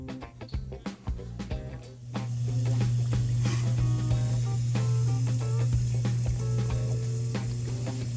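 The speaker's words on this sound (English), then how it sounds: "You can hear that hum of the dishwasher going" A dishwasher's steady low machine hum kicks in after a couple of seconds and keeps running, with a soft watery hiss and faint clatter, mid-cycle.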